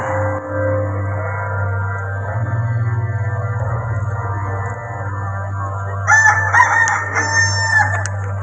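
A rooster crows loudly during an outdoor Passion play, one long clear call near the end over a steady low electrical hum and background drone.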